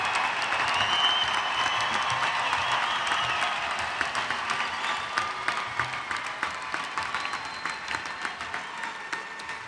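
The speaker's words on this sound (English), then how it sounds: "let's give another round of applause for all of our graduates." A university commencement crowd applauds its graduates with sustained, full-room clapping that gradually thins and fades toward the end, with no talk over it.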